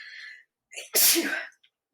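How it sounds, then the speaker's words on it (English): A single loud sneeze up close, preceded by a brief sharp intake of breath, with quiet around it. "I'm going to sneeze"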